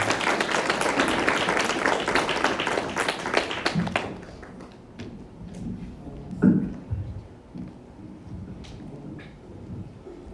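Church congregation applauding to welcome the pastor, a loud, dense burst of clapping that fades after about four seconds, leaving a few scattered claps and quiet room noise.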